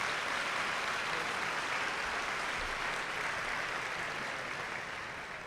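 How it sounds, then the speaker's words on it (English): Sustained applause from an audience at a spring breakfast event, honoring the Metro Nashville Police Department; dense, steady clapping from a large room that holds evenly and then begins to taper off toward the end, with no talking. "How about a round of applause for our Metro Police Department?"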